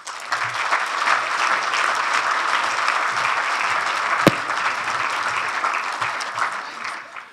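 A congress audience at an internal security event applauds to welcome the interior minister, steady dense clapping sustained for several seconds with one sharp louder clap near the end, then tapering off.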